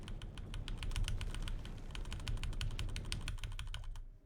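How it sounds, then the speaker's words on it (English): Rapid, frantic mashing on a computer keyboard while playing a game, dense clattering keystrokes running steadily for about four seconds before stopping abruptly, close and fairly loud. "Sorry to hear my keyboard mashing."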